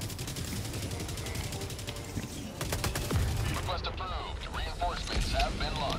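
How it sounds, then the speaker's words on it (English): Rapid bursts of automatic gunfire from an enemy shield soldier in Helldivers 2, sharp repeated shots crackling in fast volleys, some nearer and louder, with players talking over the battle. "The shield guy's just shooting to shoot."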